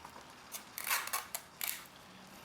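Adhesive tape is pulled and pressed onto tattoo transfer paper, giving short crackly rips and taps in a few quick bursts, close and fairly faint against a quiet room.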